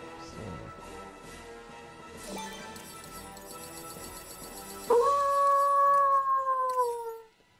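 A long, loud, rising-then-falling canine howl from the Disney Infinity video game, set in Maleficent's Forest of Shadows, rings out alone over faint game ambience, preceded by quieter yelps and whines.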